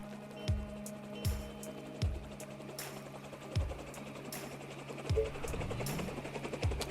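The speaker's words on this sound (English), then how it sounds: "Sounds like a helicopter." Helicopter gunships in the strategy game They Are Billions, a low rotor chop pulsing in regular beats under game ambience and scattered effects, fairly quiet.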